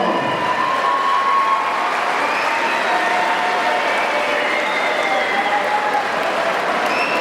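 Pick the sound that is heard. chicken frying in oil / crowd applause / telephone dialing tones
crowd applause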